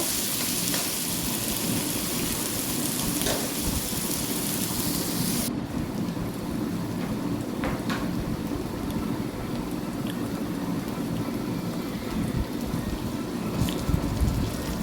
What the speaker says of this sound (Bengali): শিঙি মাছটাকে লাল লাল করে ভেজে নিয়েছি পেঁয়াজ সহ